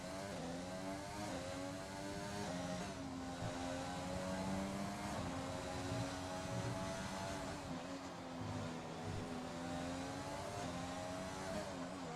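Formula 1 car engine in F1 2020 at the Monaco Grand Prix, a steady high whine rising and falling in pitch as it shifts and brakes through the chicane, continuous and fairly even in loudness.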